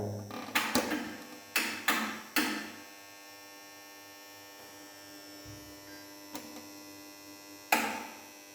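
A Forte TDR-10000VA inverter gives off a faint, steady electrical hum, punctuated by a few sharp switching clicks early on and near the end.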